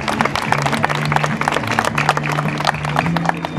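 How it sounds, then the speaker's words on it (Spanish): Applause for students at a school year closing ceremony for a sugar cane community school, a dense, steady clatter of many hands clapping throughout, with a faint sustained tone underneath. "Un fuerte aplauso para ellos."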